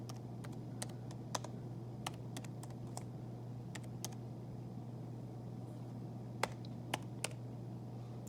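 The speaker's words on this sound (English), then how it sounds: "So I'm going to type these in." Keystrokes on a computer keyboard as equations are entered into a graphing calculator, sparse irregular clicks over a steady low hum, fairly quiet with no speech.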